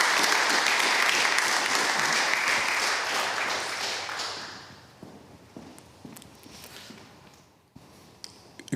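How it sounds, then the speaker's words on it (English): Audience applause at the end of a talk at a design conference, a dense, full roar of clapping for the first four seconds that thins and fades to scattered claps and quiet room noise. "Big round of applause."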